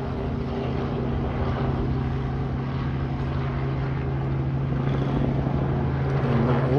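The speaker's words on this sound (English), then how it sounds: "A helicopter coming over." A helicopter flies over during an outdoor smoker cook, a steady droning rotor and engine hum with a strong low tone, loud and continuous, swelling slightly near the end.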